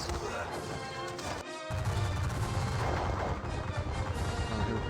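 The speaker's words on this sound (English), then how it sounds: "So give them volley fire." A musket volley crashes out in a Napoleonic battle video game, loud dense gunfire and impacts with a brief gap before a sustained rumbling barrage continues.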